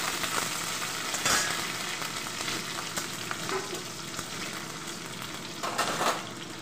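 Chopped green chillies frying with ginger in a pan while stirred for chilli paneer, making a dense, steady sizzle with occasional spatula scrapes, close and loud, no talking.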